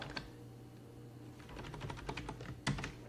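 Keys tap on a computer keyboard as the ifconfig command is typed at a CentOS Linux prompt, with a few soft scattered strokes and then a quicker cluster near the end, all quiet and close over a low steady hum.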